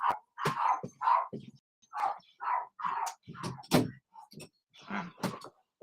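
A dog barks repeatedly in a rapid run of sharp yelps and barks, fairly close and loud, filling most of the stretch with short bursts separated by brief gaps, with no talk over it.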